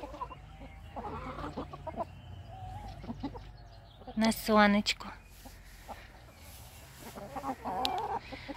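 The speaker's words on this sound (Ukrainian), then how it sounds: "Вон, тут ми бачимо перед собою віандота з фаверолькою." Wyandotte and Faverolles hens cluck softly nearby on a rural yard, with a louder burst of rapid squawking cackles midway, while a person speaks quietly in between.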